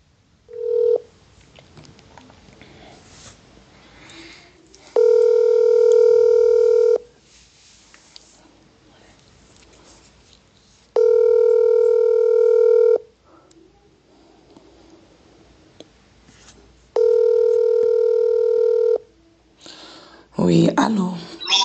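Phone line ringing through on a call to a live broadcast show, with three long, steady electronic tones separated by pauses, and brief noise and voices in between.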